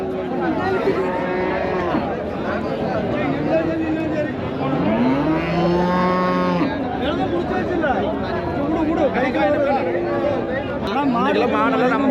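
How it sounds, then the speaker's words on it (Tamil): Cattle at the Anthiyur cattle market moo repeatedly, with long rising and falling calls over a busy background of crowd chatter and people talking nearby. "அந்த பக்கம் போனோம்னா தெரியும் நிறையா மாடுகள் வந்திருக்குது இன்றைக்கி"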